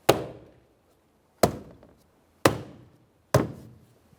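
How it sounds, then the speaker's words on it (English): Door panel locking tabs on a 2015-2019 Subaru Outback are tapped into place, four sharp, separate knocks against the panel spaced about a second apart, close and clear with no talk. "Okay, we'll just tap that in."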